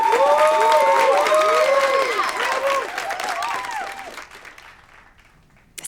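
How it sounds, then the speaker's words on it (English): Theatre audience clapping loudly at first alongside bright orchestral tones, the applause thinning and fading out over several seconds before a short sound at the very end. "Audience clap."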